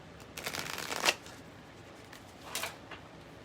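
Oracle and tarot cards are shuffled in two riffling bursts, a longer rustling run ending in a sharp snap of cards, then a shorter flurry, close and clear with no talk.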